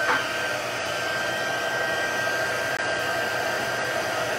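Whisper White embossing powder is heat set with a heat tool that runs in an unbroken, close, loud blowing whoosh, much like a hair dryer, steady from start to finish with no voices.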